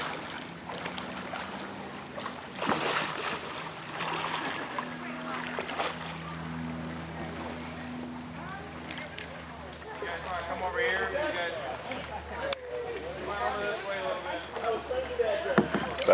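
Paddling a boat at Three Sisters Springs, soft water splashes and paddle strokes with a faint steady hum, while people talk intermittently nearby.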